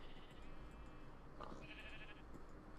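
A sheep bleats faintly in the video game Minecraft, a short wavering cry over a low, steady background hum.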